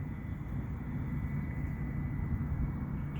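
A DJI Mavic Mini drone hovers and flies slowly over a baseball field at low throttle, giving off a steady, even whirring hum that holds at a constant level throughout.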